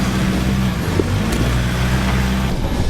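A Nissan Patrol GU 4WD climbs a hill track, its engine droning loud and close with a steady low rumble and a slight rise in pitch as it works up the slope.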